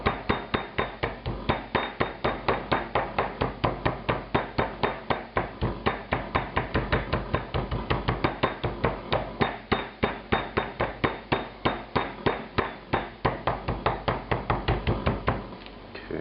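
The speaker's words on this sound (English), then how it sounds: "Now I'm going to put some cling film over it and pound it gently" Steak for steak au poivre pounded gently under cling film on a board with a meat mallet, giving a long, steady run of rapid, evenly spaced dull thuds, loud and close, with no talking.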